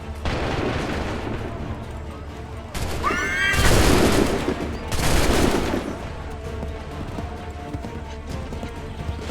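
Soldiers fire a musket volley in Assassin's Creed III: two loud crackling bursts of massed gunfire a second or so apart, over steady battlefield din with a horse whinnying nearby.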